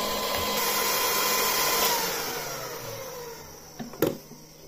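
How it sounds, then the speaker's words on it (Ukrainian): Steady mechanical whirring with a high whine from the server-type cooling fans of an Integral K48-54 power supply, a hum that gradually softens, ending with a couple of short knocks. "Блок живлення, вентилятори, серверні, відповідно шум буде, свист."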